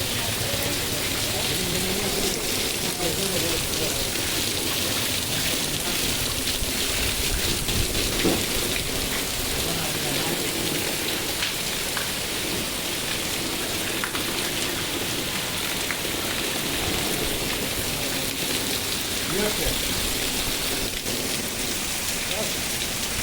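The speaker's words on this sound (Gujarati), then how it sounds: "તળાજામાં વરસાદ શરૂ છે બપોરનો સમય" Steady heavy afternoon rain in Talaja pours down continuously, a dense hiss of drops hitting surfaces with no pauses, close and loud throughout.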